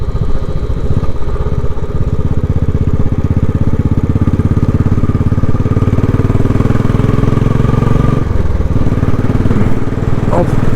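A Royal Enfield Classic 500 motorcycle ridden at a steady, gentle pace, its single-cylinder engine thumping in a continuous close drone with a brief dip in tone near the end.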